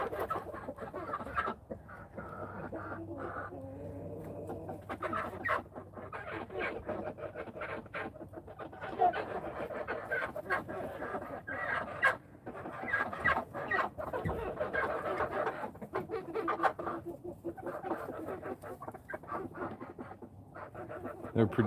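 Chickens cluck and call continuously on a farm near Blackwater Bay in Santa Rosa County, a busy, fairly loud flock close by with overlapping clucks and squawks throughout.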